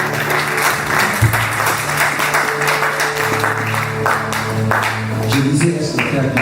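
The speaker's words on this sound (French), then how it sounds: "Est-ce qu'on peut applaudir?" A church congregation applauds in a sustained wash of clapping, with voices and music underneath.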